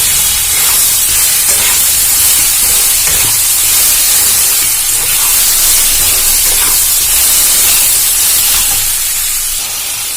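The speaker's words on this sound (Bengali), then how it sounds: "এবার এটা খুব ভালো করে একটু নাড়াচাড়া করে ভেজে নেব।" Poppy seed and mustard paste frying and being stirred in a pan for a Bengali chhatu bati chachchari, giving a steady, loud, close broadband hiss and sizzle with faint scraping, and no voices.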